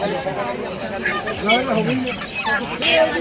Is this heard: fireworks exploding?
no